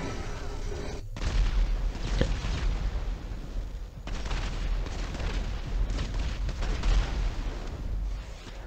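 Iron Man's rocket blasts in the video game GTA V rumble as loud, continuous booming explosions with a sharp crack and brief drop-out near the start, and the barrage resumes heavily afterward.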